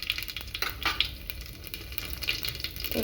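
Mustard seeds and cumin crackle in hot oil, cooking for Indian aloo gwar sabzi. A moderate sizzle runs throughout, broken by scattered sharp pops and spatters at an uneven rhythm.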